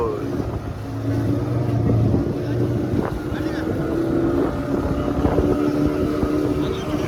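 A 40 hp fishing boat engine drones steadily up close, with wind buffeting the microphone and a faint voice now and then under the noise.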